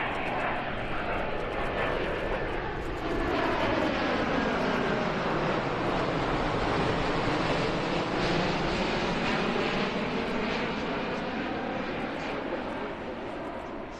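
A United Boeing 777-300ER airliner passes at an air show, its engines a loud, sustained roar that swells and slowly shifts in pitch as it flies by, then fades slightly toward the end.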